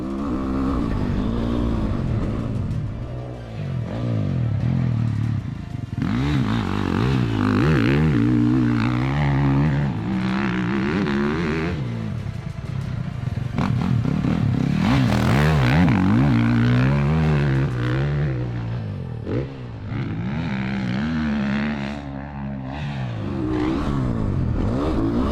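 A Beta 450 dirt bike is ridden hard around a track, its single-cylinder engine revving up and down in repeated loud surges with short drops in between for corners, close and continuous over about twenty-five seconds.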